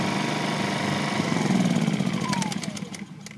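A Ryobi 2200-watt digital inverter generator hums steadily close by, then its pitch drops and it winds down as it shuts off, with a few faint clicks near the end.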